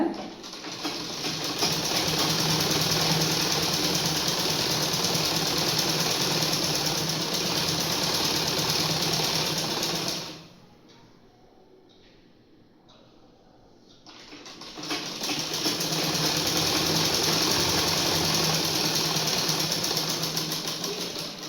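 A sewing machine stitches a frill in a loud, steady, close run that stops for a few seconds mid-way, then starts again and runs on to the end.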